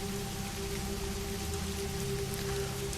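Steady rain falls throughout, a dense, even patter on surfaces with a faint constant hum beneath it and no voices.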